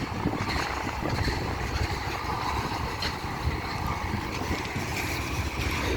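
CN freight train rolling past on the rails, a steady low rumble and rattle of wagons, continuous and fairly loud with no voices.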